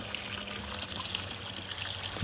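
Soft, steady trickle of a backyard pond waterfall running continuously at moderate distance, a gentle broadband wash with no voices.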